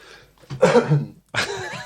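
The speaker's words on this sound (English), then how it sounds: "Another cough, excuse me." A couple of close, harsh coughing bursts separated by a brief pause, loud and near.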